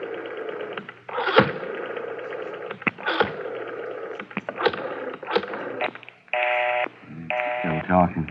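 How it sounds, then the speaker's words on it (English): Telephone dialing in an old-time police radio drama, with a series of short clicking pulses and buzzing line tones, then brief ringing or busy-signal tones, heard close against a faint background. "Dial 9 to get outside, Garvey."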